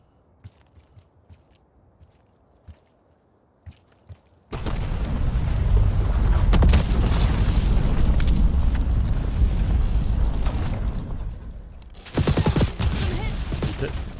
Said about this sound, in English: If you have impact grenades, he takes a lot of damage from those grenades.